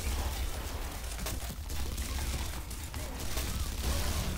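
Explosions and rapid gunfire-like bursts from the video game Red Faction Guerrilla, a dense, continuous barrage of booms and pops filling the whole stretch at steady loudness with no pauses.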